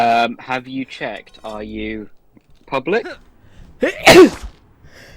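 A single loud, close sneeze bursts out after a person speaks, with a short pause between the talk and the sneeze.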